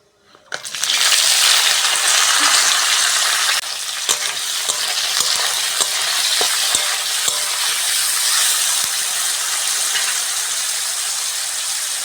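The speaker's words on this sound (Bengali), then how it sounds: "পেঁয়াজ আর টমেটোটা হালকা করে ভেজে নিয়েছি।" Onion and tomato hit hot oil in a pan with a sudden loud hiss, then a sustained close sizzle broken by sharp spatula taps and scrapes, without talking.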